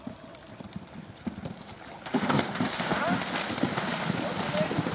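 Horse hooves clop in a steady rhythm on an equestrian course during a Luhmühlen riding session, growing louder and busier partway through, with a trainer's spoken instructions in the background.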